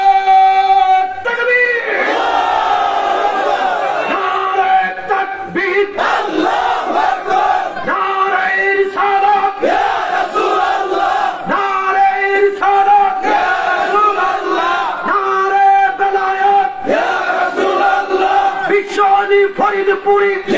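A large crowd at a Zaker Party gathering shouts a takbir chant in loud repeated unison calls, the massed voices sustained and echoing throughout with a leader's cries mixed in.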